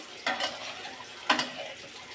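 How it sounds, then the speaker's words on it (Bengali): Eggs coated in turmeric, chili and salt fry in a pan, with a soft sizzle running beneath two brief bursts of stirring and scraping against the pan, heard close with no talk. "এখন আমি ডিমগুলো একটু ভুনা করে নিব"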